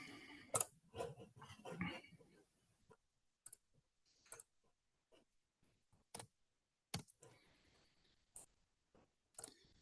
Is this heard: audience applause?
no